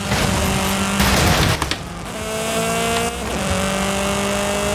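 Racing car engine revving with tire squeal in Forza Horizon 5 on a race against a Golf, loud and close, with a strong squeal burst early and the engine note shifting through gears.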